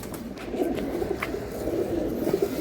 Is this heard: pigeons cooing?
yes